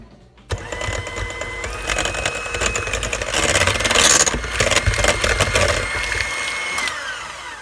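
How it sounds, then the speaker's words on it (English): Banana bread batter being mixed with what sounds like an electric mixer, a loud continuous motor whir that rises and falls in pitch over several seconds, close by and without talk. "so we're gonna mix this up"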